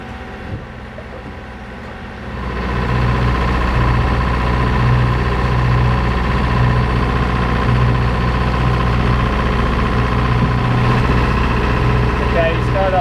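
Engines of a small fishing craft start up out on the open Pacific at night, a low steady rumbling drone that swells after a couple of seconds and then holds loud and constant.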